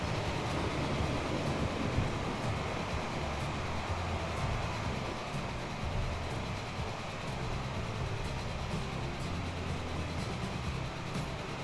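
Two trains passing each other in Transport Fever, a steady loud rumble of rolling wagons and track noise that holds for over ten seconds without letting up.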